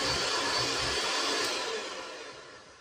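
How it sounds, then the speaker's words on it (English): An electric mixer runs with a steady, dense motor whir close by that fades slightly toward the end, with no talking over it. "A mixer, and here we go."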